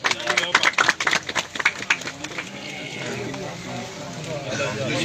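A group claps in dense, quick bursts at a gathering for Ustad Baba Sikandar, close and lively at first, then fading out as voices keep talking over it.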